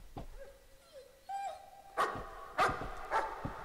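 A dog barks in the horror video game Layers of Fear: a few whimpers, then three sharp, echoing barks at a distance, faint against a quiet eerie background.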